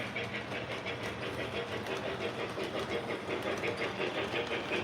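A non-Protosound model train locomotive runs steadily with a continuous rhythmic clatter and mechanical whir, moderately close and alone.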